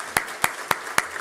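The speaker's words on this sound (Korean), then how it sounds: "우리 박수로 환영하겠습니다" Church members clap in a slow, even rhythm to welcome newcomers during a Sunday worship service, about five distinct, sharp claps spaced evenly apart, close and fairly loud with a quiet room between them.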